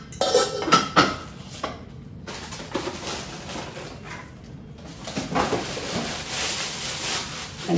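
Metal cooking pots and a sauce pot being handled, with several sharp clanks and knocks early on, then quieter rattling and clinking of cookware close by.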